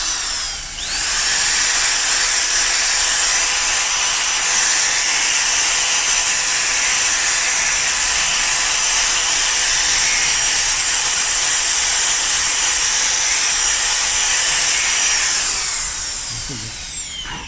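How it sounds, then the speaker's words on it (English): A finger sander whines steadily and loudly, close by, for the whole stretch as it smooths a chainsaw-carved wooden tawny owl sculpture. It starts up and winds down at the ends. "I'll just go over the whole bird with the finger sander now, just to refine the shape"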